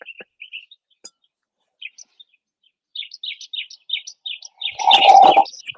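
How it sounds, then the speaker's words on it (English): A small bird chirps in the background with a string of short, bright tweets, sparse at first and then quicker, before a louder burst of sound near the end. "We've got a bird in the background."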